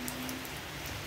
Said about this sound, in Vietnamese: Ngoài trời giờ đang mưa quá chừng luôn